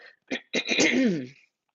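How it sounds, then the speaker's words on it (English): A person clears their throat up close, a short grunt followed by a longer rasping, voiced rumble that fades out. "I gotta clear my throat."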